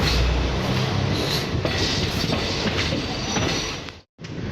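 Passenger train on the Koraput to Visakhapatnam line, a steady loud rumble of running wheels and carriages with faint clatter, cutting out briefly near the end before resuming.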